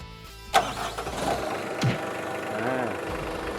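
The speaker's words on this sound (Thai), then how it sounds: "เดี๋ยวสตาร์ทเสียงเครื่องให้ดู" A K2 forklift's Mitsubishi S4S diesel engine cranks with a sharp burst, then catches and settles into a steady low rumbling idle, with some voices faintly in the background.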